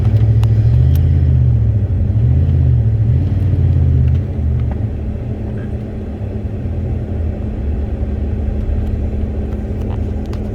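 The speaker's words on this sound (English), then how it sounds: "And you can hear this thing is just starving for fuel." A Ram pickup truck with a fuel pressure problem accelerates with a deep, strained engine rumble, a wavering drone that drops back to a lower, rougher hum, heard from inside the cab.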